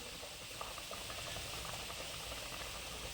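Water boiling in a pan for a moringa leaf poriyal, a dense, steady bubbling and rattling simmer heard close up and alone, without pause.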